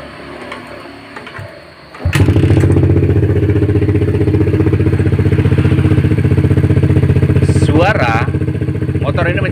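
A Yamaha Jupiter MX New motorcycle engine, fitted with an aftermarket cylinder block, starts after a couple of seconds of quiet and then runs loud, smooth and steady nearby. A brief voice breaks in near the end.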